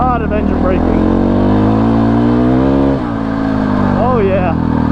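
KTM 500 EXC-F dirt bike engine revving and pulling hard throughout, a loud, steady close-up drone with rising pitch sweeps and a brief dip near the three-second mark, captured from the rider's position.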